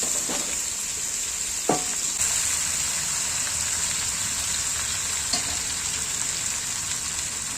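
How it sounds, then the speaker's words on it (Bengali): Kohlrabi and potatoes fry in oil during rooftop home cooking, producing a steady, close sizzle with a couple of brief clinks from stirring. "ওলকপি আলু ভাজবো, ভেজে নিই তারপরে"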